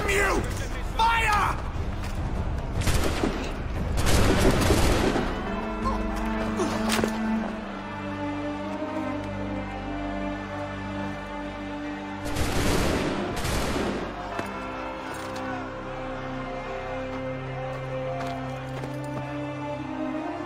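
A volley of musket fire rings out in an Assassin's Creed III scene, with two loud clustered bursts of crackling shots standing out over a dense game soundtrack while voices speak.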